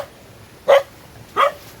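A dog at a house barks twice, two short, fairly close barks separated by a brief pause.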